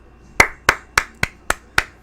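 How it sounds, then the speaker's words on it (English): A golf clap of six slow, evenly spaced hand claps sounds sharp and close, with short gaps and no talk between them. "golf clap, ladies and gentlemen."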